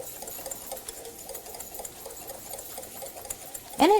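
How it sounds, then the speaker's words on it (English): Eggs whisked by hand in a bowl for a quick béarnaise sauce, giving a rapid, even, continuous clicking rhythm close up, with a brief louder clatter right at the end. No one speaks. "we're just going to whisk until these eggs get nice and"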